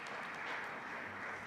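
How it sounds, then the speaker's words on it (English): Audience applause at an award ceremony for a green roof competition, a soft, steady wash of clapping heard from a distance, brief and fairly faint. "applause for everybody"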